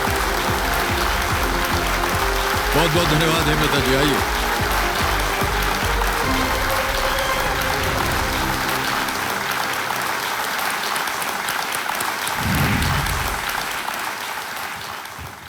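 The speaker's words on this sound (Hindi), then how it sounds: "तालियों के साथ आपका अभिनंदन करते हैं।" Studio audience applause on a TV quiz show swells loudly and steadily over music, while a host speaks briefly through it; the clapping continues, tapering slightly near the end.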